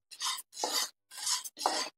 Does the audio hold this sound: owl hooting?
no